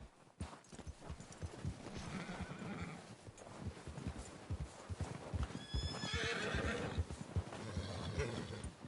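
Horses in a western video game, hooves clip-clopping in an uneven rhythm on the ground, with snorts and a whinny over a faint outdoor background.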